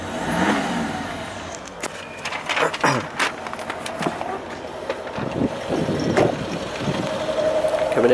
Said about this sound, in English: Just give it a bit of a blip because it's a nice sounding engine.